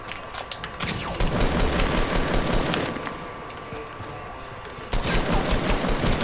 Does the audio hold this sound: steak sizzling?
no